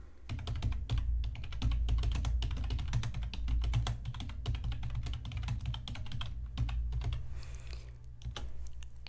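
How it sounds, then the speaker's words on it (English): Rapid, uneven keystrokes on a computer keyboard go on throughout with brief pauses, close and fairly quiet over a low background hum. "I'm going to type that into the chat."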